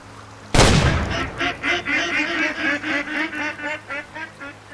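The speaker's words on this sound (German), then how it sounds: "Das ist ein Erpel." A drake duck in the hunting game Way of the Hunter gives a loud burst followed by a steady run of repeated, close quacks, with no talking over it.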